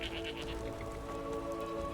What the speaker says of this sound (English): Like this little goat.